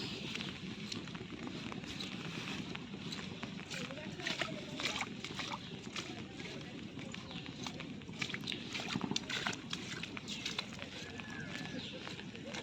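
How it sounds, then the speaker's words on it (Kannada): Rushing floodwater pouring across a rain-flooded paddy field during a heavy downpour, a steady, broad watery roar with splashes, continuous throughout at close range. "ಗದ್ದೆ ಎಲ್ಲ ನದಿ ಥರ ಆಗಿದೆ ಯಾರಾದರೂ ಇದನ್ನು ಗದ್ದೆ ಅಂತ ಹೇಳ್ತಾರ ಅಷ್ಟು ನೀರು ಬಂದಿದೆ"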